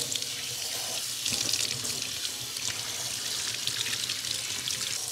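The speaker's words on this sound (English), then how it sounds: "we're gonna wash out the belly" Tap water runs steadily from a faucet as a striped bass belly is rinsed out after gutting, a continuous close splashing rush with no talking.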